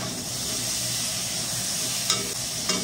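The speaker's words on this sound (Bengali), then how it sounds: "আর একটু পটল আলু একটু ভেজে নিচ্ছি, ফোড়ন দিয়ে তারপরে ওগুলো দিয়েছি" Pointed gourd and potato fry in hot oil with tempering spices, giving a steady, close sizzle with a couple of brief stirring clinks near the end.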